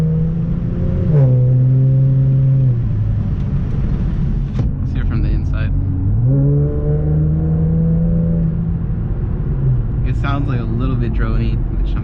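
Inside an Infiniti Q50 with the VR30DTT twin-turbo V6 and a Megan Racing Y-pipe, a loud exhaust drone rises and falls through several revs, with brief voices heard now and then.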